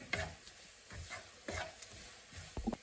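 Coriander powder and garam masala are stirred in a pan for pork chops, with soft rhythmic scraping strokes over a faint, low sizzle.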